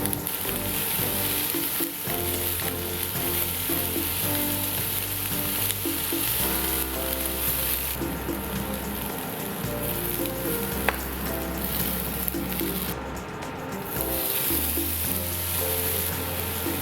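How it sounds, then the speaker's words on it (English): Vegetables sautéing in a pan with a little olive oil for japchae, a loud, steady, close sizzle with occasional stirring, a low continuous hum running underneath throughout. "We're gonna saute the veggies that we prepared."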